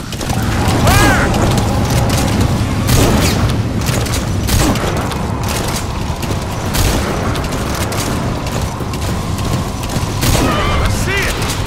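Dense gunfire and heavy booms in the video game Metal Gear Solid V: The Phantom Pain, rapid shots and explosions repeating throughout amid mechanical clatter, with shouted voices mixed in.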